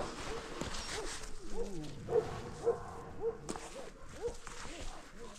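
A dog barks and yips in a string of short, sharp calls at an uneven pace, fairly close, with some rustling underneath.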